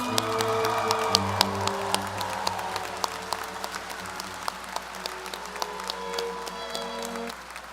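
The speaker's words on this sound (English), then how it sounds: "more round of applause for our class of 2028." At a medical school White Coat Ceremony, the audience claps for the incoming class of 2028: a thinning round of scattered, distinct claps over a sustained tonal backdrop, quiet and tapering off.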